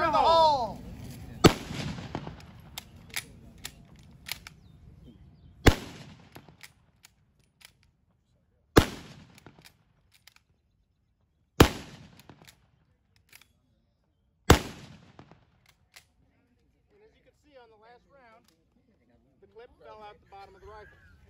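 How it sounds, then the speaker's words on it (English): Gewehr model 1888 bolt-action rifle fired outdoors at a living history demonstration, several sharp loud single shots spaced a few seconds apart with ringing decay, someone talking before and between them. "So I'm going to go ahead and fire the Gewehr model of 1888."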